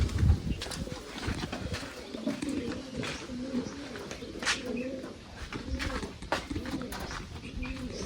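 Wild pigeons coo in a repeated rhythmic series, soft and somewhat distant, with faint chirps and occasional background clatter around them.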